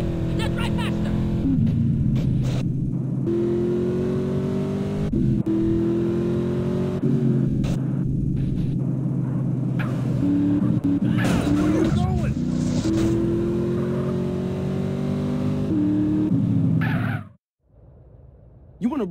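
Car racing fast in GTA San Andreas Definitive Edition, an engine droning and revving through steady gear changes, loud and close under in-game character talk, cutting off abruptly near the end.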